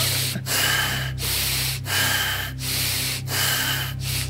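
Close, rasping breathing done deep and fast during a guided ASMR meditation, roughly six breathy gasps in a steady rhythm separated by short silent gaps, with no voice over them.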